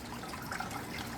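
Water pouring through a strainer into a fish tank onto gravel, a steady moderate trickling and splashing stream with slight bubbling, continuous and fairly close.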